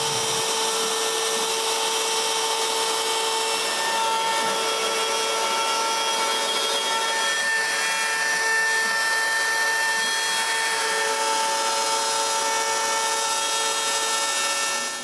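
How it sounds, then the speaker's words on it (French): An X-Carve CNC router hums steadily as it cuts a plywood jig, a continuous whining drone with tonal lines that holds at an even, close level for the whole stretch, with no talk. "envoyer le code au X-Carve pour qu'il puisse créer"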